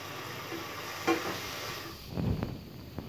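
Chopped tomatoes frying with onion and ginger-garlic paste in a pan for a Tamil wheat rava biryani, giving a soft steady sizzle with a few stirring scrapes near the end.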